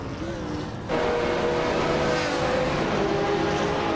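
Race cars, a Ferrari F430 GTC and a 1999 Honda Civic SI, driving in a steady engine drone that grows louder and fuller after the first second and holds for the rest of the clip.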